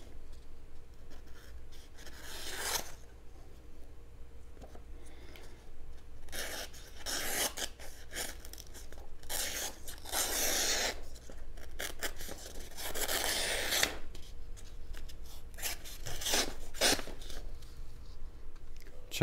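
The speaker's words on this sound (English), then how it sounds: "Check it out with some of this rope, see how much pressure I have to put on it." A Nextorch Pioneer 14-in-1 multi-tool knife blade saws through rope in repeated rasping, scraping strokes of varying length. The strokes are close and moderately loud, with short pauses between bursts of cutting.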